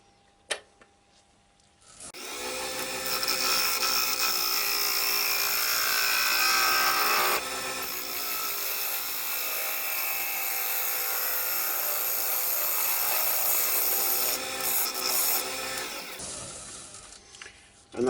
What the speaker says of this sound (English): I'm just using a spindle gouge, and again rubbing the bevel and just going from the outside in